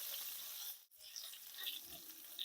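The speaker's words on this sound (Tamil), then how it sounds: "அந்த பூண்டு கொஞ்சம் லேசாக அந்த ஃப்ளேவர் பச்சை வாசனை போகிற வரைக்கும் நம்ம வதக்கிட்டு" Crushed garlic sizzling in hot oil with mustard seeds, fennel and curry leaves for a crab curry: a close, steady frying hiss with a brief dip partway through, no talking.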